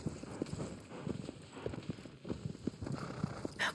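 Horse hooves clip-clopping in Shadow of the Colossus, a steady walking rhythm of muffled hoofbeats close by, moderately loud with no talk over them.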